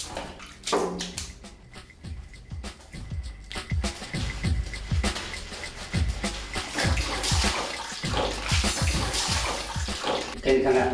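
Water is poured from a ladle-like scoop during washing, splashing in repeated bursts onto a body and floor, close and fairly loud, with voices talking over the splashes.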